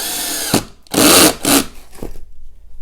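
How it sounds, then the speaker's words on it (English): A power drill set to torque setting 1 drives a screw into wood in short loud bursts: a brief spin, then two longer whirring pulls, and a final quick burst before the clutch stops it and it falls silent. "we're going to drill this wood screw nail in here"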